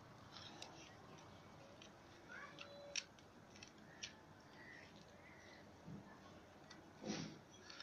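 Scissors prune a branch from a fire stick plant in several faint, scattered snips, with one sharper cut near the middle and a louder crunch toward the end, set against a quiet background with occasional bird calls.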